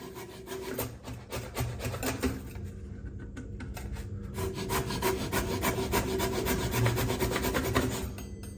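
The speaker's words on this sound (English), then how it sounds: "So I'll give that a plunge there, see if we can dislodge it." A plunger working a clogged drain during hotel maintenance: continuous rubbing and squelching strokes come in a rough rhythm, close and moderately loud throughout, with no speech.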